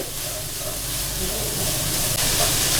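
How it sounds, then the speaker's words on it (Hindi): Capsicum and other vegetables fry in a pan with a close, continuous sizzling hiss and a low rumble underneath, steady for about three seconds without speech. "इसको भी हम हल्का सा फ्राई करेंगे, एक हल्की सी इसकी क्रंचनेस रहे।"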